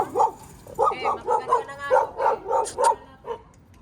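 A dog barks repeatedly at close range on a street in Manila, about eight loud, evenly spaced barks with a final softer yelp.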